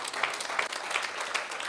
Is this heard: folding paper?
no